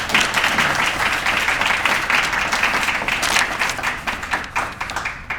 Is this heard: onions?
no